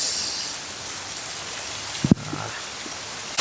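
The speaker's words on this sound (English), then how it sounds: "So hail it is." Rain and hail fall outdoors as a steady soft patter and hiss, with a couple of sharper knocks near the middle, and nobody speaks.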